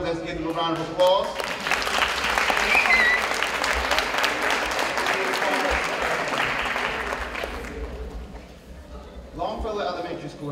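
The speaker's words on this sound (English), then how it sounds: "Parents and students, please stand up. Let's give them a round of applause." A crowd of parents and students at Longfellow Elementary School gives sustained applause for about eight seconds, fading out, then a voice begins speaking over the room's ambience.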